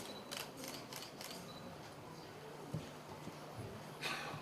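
Rapid bursts of a camera shutter firing at a live cranberry recipe demonstration by a chef, several quick clicks in clusters near the start and again near the end over a steady room hum.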